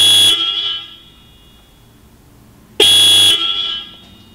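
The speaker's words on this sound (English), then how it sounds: "this right here is the sound coming from my Hella Sharptones." Two loud, sharp blasts from Hella Sharptone car horns, close up, each lasting about half a second with a ringing tail, separated by a quiet pause.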